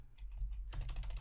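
Quick keystrokes clatter on a computer keyboard, a few light taps followed by a brisk, closer burst of rapid typing, with no voice over it.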